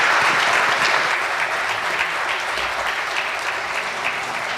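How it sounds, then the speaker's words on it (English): Loud, continuous applause from a large audience, dense clapping holding steady throughout. "we'll give a round of applause for this group"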